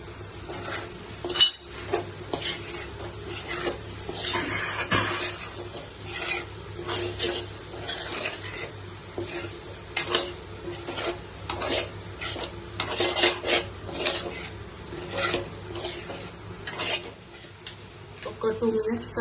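Spices and chopped coriander are stirred into an egg fry in a pan with repeated close scraping and clinking strokes over a steady sizzle, while someone talks quietly in the background.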